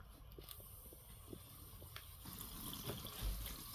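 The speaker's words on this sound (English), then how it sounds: "I'm going to put a little bit of water in this" Water poured from a container onto a young potted tomato plant makes a faint, low splashing trickle with a few soft drips, quiet and close, with no talking.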